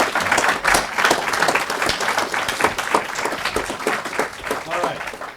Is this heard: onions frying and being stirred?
no